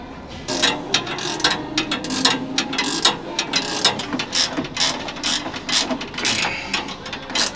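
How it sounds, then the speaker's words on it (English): A 3/8-inch ratchet wrench clicks in quick, irregular bursts of sharp pawl ticks, close and fairly loud, while someone works on the dash of a 1939 Lincoln Zephyr. "Give me a 3/8 ratchet wrench."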